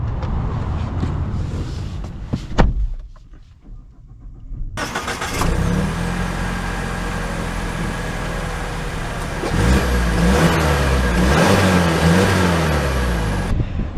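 A 2024 Mazda CX-50 Turbo finished in Soul Red is driven, its engine rising and pulling through a steady, loud accelerating drone with a brief quieter lull early on, then building again toward the end.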